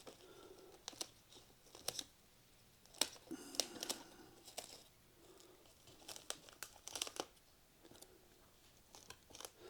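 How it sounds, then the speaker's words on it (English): Plastic rooting pot cells for fig cuttings being cut apart along their seams, giving quiet crinkling, crunching snips in irregular bursts, close by and soft. "I'm just going right down the sides of these seams where these units are next to each other and cutting them loose."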